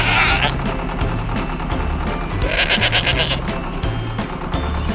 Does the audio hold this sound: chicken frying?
no